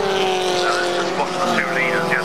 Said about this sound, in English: the second long queue of cars now heading through Paddock Hill Bend